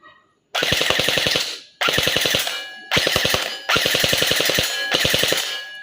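A TG SLR V2 gel blaster toy gun fires full auto in four loud, close rapid-fire bursts, each a fast mechanical rattle of shots separated by short pauses.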